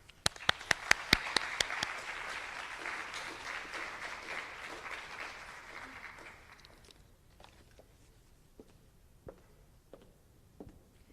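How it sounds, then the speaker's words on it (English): Applause from the audience at a high school senior awards ceremony: a few loud early claps swell into steady clapping, then fade after about seven seconds to scattered single claps. "Please join me in giving a hearty round of applause for Lily, Rave, and Caitlin"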